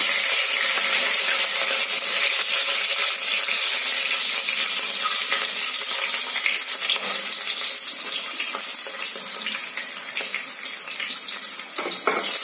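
Green chillies and washed mint leaves sizzle and crackle in hot oil while a tomato biryani is being cooked, a dense steady hiss with fine popping that carries on without break, loud and close, with no talking.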